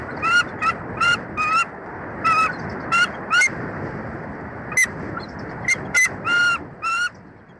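Bald eagles Jackie and Shadow call back and forth at their nest in Big Bear Valley, a dozen or so short, shrill squawks in uneven bursts over a steady outdoor hiss.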